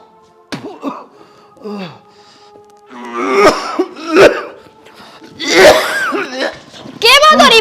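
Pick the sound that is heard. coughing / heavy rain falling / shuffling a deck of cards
coughing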